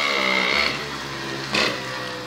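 A small motorized bicycle engine drones steadily with a buzzing, revving tone, close by, swelling briefly in a sharper surge of revs before settling back to a constant hum.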